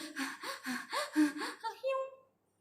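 A voice imitates rapid breathing with a quick series of short, gasping breaths that trail off into silence.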